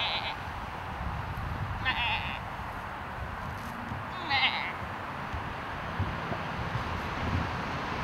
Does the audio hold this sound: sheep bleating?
yes